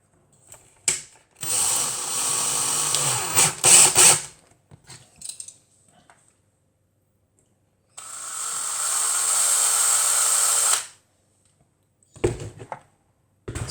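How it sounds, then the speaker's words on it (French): Cordless drill driver boring a hole into a small die-cast toy car, two bursts of whirring drilling of about three and one and a half seconds, close and fairly loud, with light handling clicks between and after. "je me munis d'un forêt, de ma visseuse et on le perce"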